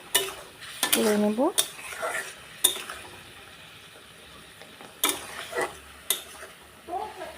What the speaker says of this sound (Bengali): কাশ্মীরি মরিচের গুঁড়ো, সামান্য পরিমাণ হলুদ আর অল্প একটু নুন দিয়ে ভালো করে নাড়াচাড়া